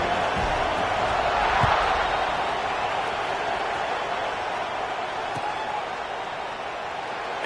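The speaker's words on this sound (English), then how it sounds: "this crowd is buzzing after that last score" A football stadium crowd after a score fills the air with a steady, distant buzzing roar, with a few faint thuds scattered through.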